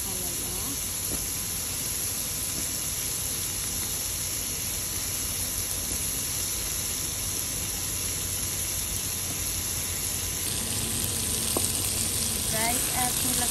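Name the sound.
bitter gourd added to sizzling oil for pinakbet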